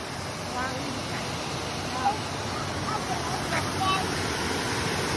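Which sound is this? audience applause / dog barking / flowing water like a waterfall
flowing water like a waterfall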